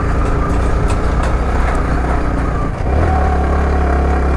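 Motorcycle ridden along a dusty dirt road, its engine droning loud and close without a break, with the pitch dropping briefly and then settling into a lower, steadier rumble.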